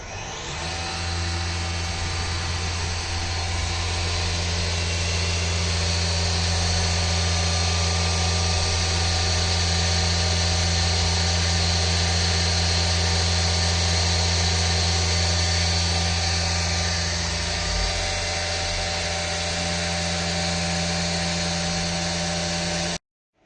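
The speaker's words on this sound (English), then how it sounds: "Let's machine the first slots and pockets on the side." A 5-axis CNC mill on a trunnion machines slots and pockets in a side of a part, producing a loud, steady, high-pitched whine with a constant drone that runs unbroken for over twenty seconds before cutting off.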